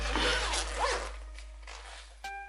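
A zipper on a Cannae Pro Gear Armory range bag is pulled open in one long close rasp, followed by a short soft rustle and a sharp click as the bag opens.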